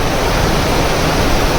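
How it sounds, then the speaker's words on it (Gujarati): A heavy downpour in Surat roars as a dense, unbroken hiss of falling rain, loud and close throughout the brief stretch, with no voices. "સુરતમાં ધોધમાર વરસાદ"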